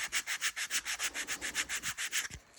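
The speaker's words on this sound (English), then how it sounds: "So that's my initial sanding." An acrylic sanding block rubs along a leather edge in quick, even back-and-forth strokes, about a dozen rhythmic rasping passes close up, then stopping.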